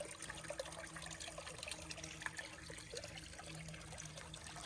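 A steady, gentle trickle of a small stream running under juniper on an Arizona mountain, continuous and fairly close, with no voices.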